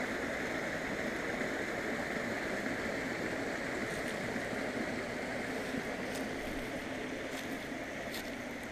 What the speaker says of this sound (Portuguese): Aqui uma cascata, só que vê-se mal.